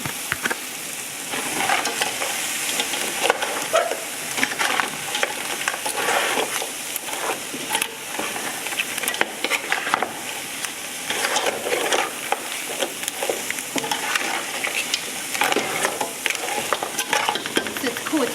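Mangrove mud crabs fry in curry seasoning, giving a close, busy sizzle broken by repeated scraping and clattering from stirring in the pan throughout.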